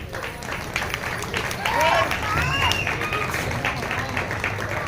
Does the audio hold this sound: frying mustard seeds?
no